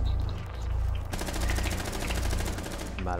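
Rapid automatic gunfire in Rainbow Six Siege, a dense steady rattle of shots that grows louder and sharper after the first second and continues to the end, close and loud throughout.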